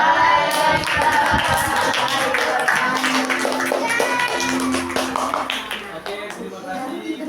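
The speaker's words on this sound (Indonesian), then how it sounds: "Tepuk tangan buat kita semua." Classroom audience clapping after a student's presentation, a scattered burst of applause mixed with voices talking over it, fading toward the end.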